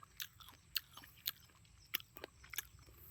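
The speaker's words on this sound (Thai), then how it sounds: "เคี้ยวทั้งเม็ดครับ" Crisp, crunchy bites into a whole green guava, eaten raw with the skin on, come close and clear as several separate crunches spread across the clip over quiet background.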